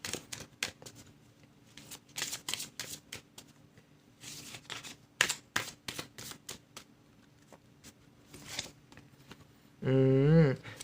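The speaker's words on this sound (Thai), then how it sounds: "ขอเก็บไพ่ก่อน" Oracle cards are gathered and shuffled by hand in a quiet room, making a long run of soft, rapid riffling clicks, then a short burst of tonal sound at the very end.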